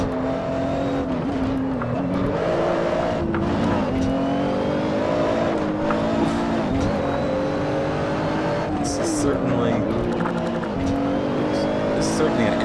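A race car laps a track in the Assetto Corsa driving game, its engine droning steadily and rising and falling through gear changes and corners, with brief tyre squeal and a voice talking over it.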